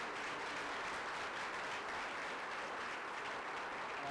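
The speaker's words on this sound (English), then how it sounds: "Let's give them a round of applause for organizing this event today" Audience applause at an immigration roundtable event, a dense, steady wash of many hands clapping that holds at an even level for the full stretch with no voices over it.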